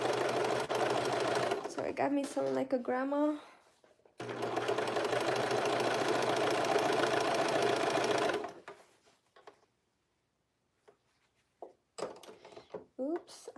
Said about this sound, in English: I'm not going too fast because I feel like my serger is messing up when I do